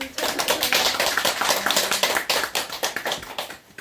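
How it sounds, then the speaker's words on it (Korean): Small audience at the opening of an academic seminar clapping, a modest scattering of hands with distinct individual claps in an uneven rhythm, fairly close and without talk over it. "박수 쳐주세요"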